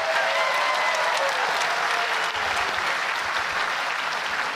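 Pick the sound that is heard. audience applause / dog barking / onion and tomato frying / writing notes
audience applause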